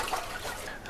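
A liquid solution for an orchid pH project is stirred briefly, producing a soft watery swirl and slosh, close and gentle, lasting about a second.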